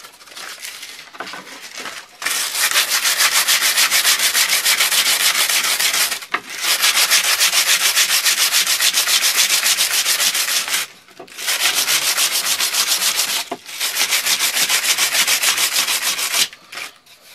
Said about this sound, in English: So now I'm going to get some of this black off by some light sanding.